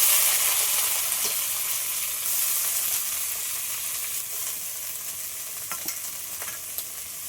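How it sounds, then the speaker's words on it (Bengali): Cauliflower frying in oil after potatoes, a continuous sizzle with occasional stirring clicks and spatula taps, moderately quiet and close. "কপিটাও ওই তেলে ভেজে নেব"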